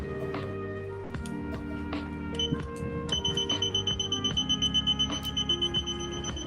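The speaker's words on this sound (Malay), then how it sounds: "buzzer akan berbunyi apabila dua kunci diambil dalam satu masa yang sama" A buzzer on a key security system sounds when two keys are taken at once, giving layered electronic alarm tones that turn into a rapid pulsing beep pattern.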